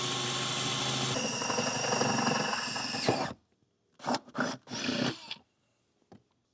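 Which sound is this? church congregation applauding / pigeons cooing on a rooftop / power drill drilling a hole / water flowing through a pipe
power drill drilling a hole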